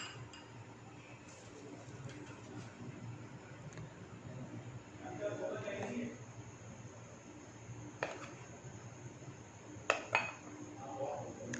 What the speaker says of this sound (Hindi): पहले अंडों को अच्छी तरह से दोस्तों फेंट लेंगे ताकि अच्छी तरह से मिक्स हो जाए